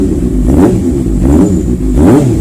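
A 2016 Honda CB650F inline-four motorcycle engine blipped three times, each loud throttle rise and fall close by, separated by brief idle dips.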